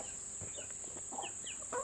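Several soft, short clucks from a hen on a farm, faint and scattered over a steady high insect-like hiss.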